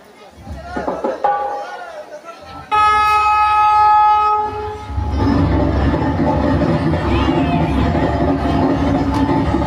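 A Vande Bharat train bound for Sealdah sounds a long, loud, tonal horn blast, then its deep rumble and rattling carriages roll on steadily and close by, with a voice from the platform mixed in.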